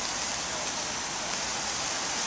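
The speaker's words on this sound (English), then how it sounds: "It's been thundering and raining" During a thunderstorm, rain pours steadily on an old wall walkway, a loud, unbroken hiss close by for the full few seconds.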